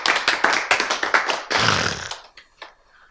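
Audience clapping breaks out during a Korean sermon, with a burst of claps and a loud swell near the middle that quickly fades to a few scattered claps.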